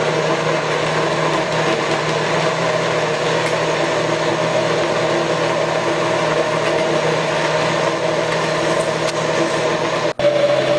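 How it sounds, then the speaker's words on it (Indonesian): Electric blender grinding a spice paste with added oil for an Indonesian base seasoning, a steady, loud motor whir that runs continuously with no pauses. "Kita blender sampai halus."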